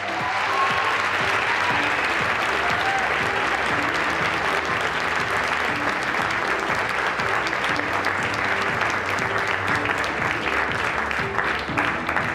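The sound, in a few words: audience applause at award dinner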